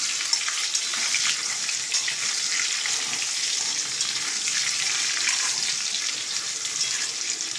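Potatoes frying in oil and being stirred briefly, a steady close hiss of sizzling with soft scraping movement throughout.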